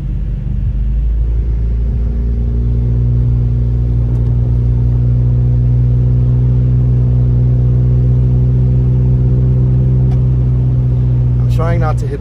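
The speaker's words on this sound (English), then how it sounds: "For those of you wondering why my exhaust is so loud, trust me, I didn't do that on purpose." Loud car exhaust drones while driving through heavy snow in Big Bear, California, a steady deep rumbling engine note held close and constant throughout.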